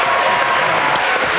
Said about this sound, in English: Applause for them. Give them a hand.